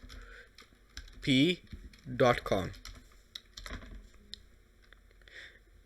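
Scattered keystrokes on a computer keyboard as a web address is typed, faint and irregular clicks around someone talking over them.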